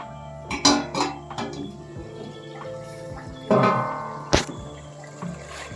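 A metal lid clanks and scrapes as it is lifted off a pot of steamed chicken, with several sharp clinks and rattles of cookware spaced over a few seconds in a quiet kitchen.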